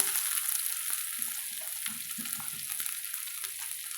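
Soft, steady sizzling of onion frying in hot oil for tomato sambar, with a few quiet clinks and stirring sounds nearby.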